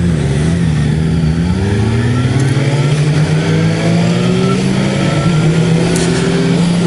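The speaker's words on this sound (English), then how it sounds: "The bike accelerates very smoothly. Goes through the gears just excellent." A Suzuki GSX-S750 motorcycle engine accelerates through the gears, its loud, steady drone rising in pitch and dropping briefly at a shift before climbing again, with heavy wind noise throughout.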